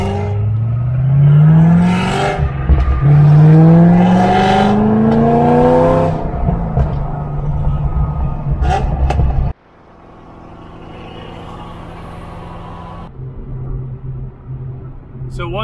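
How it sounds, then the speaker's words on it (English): A supercharged Corvette C6 ZR1 V8 revs loud and close, climbing through several rising sweeps with a supercharger whine, then cuts to a lower steady drone as it pulls away. "That is Hassan in a beautiful supercharged C6Z."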